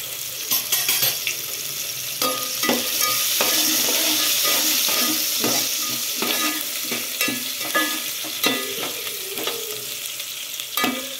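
Chopped onions fry and sizzle in hot oil for fish biryani, a steady crackling hiss broken by repeated scraping stirs of a spoon in the pan, close and alone without voices.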